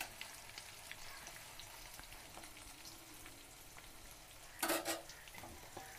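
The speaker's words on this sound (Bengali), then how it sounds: "পেঁয়াজটা লাল ভাজা হবে," Onions frying in a pan for bhuna chicken, a steady soft sizzle and crackle running throughout, with a brief louder burst of clatter or spatter near the end.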